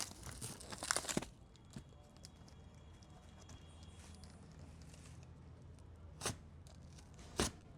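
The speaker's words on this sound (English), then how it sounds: "I'm going to cut this box open. Still in the shipping plastic." Cardboard box and shipping plastic around a Genmax 7500 dual-fuel generator being cut open, with a burst of crinkling and tearing at the start, then faint scrapes and a couple of sharp crackles, close and quiet.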